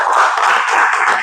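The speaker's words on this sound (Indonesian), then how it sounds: "Tepuk tangan dulu" Classroom applause from students in a high school Indonesian language lesson, a short burst of dense, steady clapping close by with no talk over it.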